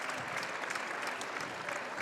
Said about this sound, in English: And gets a nice round of applause